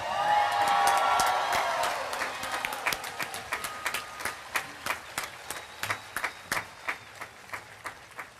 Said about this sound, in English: Thank you for that round of applause for all graduates in the class of 2017.